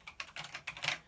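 Rapid keystrokes on a PC computer keyboard during gameplay come in several short bursts of clicky taps, close and fairly quiet, with no voices.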